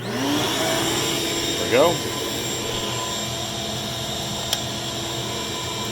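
A wet/dry shop vacuum runs steadily with a broad whooshing drone throughout, a brief louder surge near the start, and a voice speaking briefly over it.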